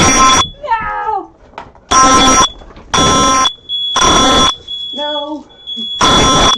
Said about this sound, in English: it's right under my smoke detector. There it goes.